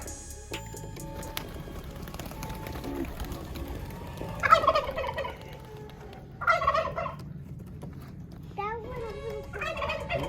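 Turkeys gobble in several separate bursts over a steady low rumble, with faint clicks and rustling between the calls.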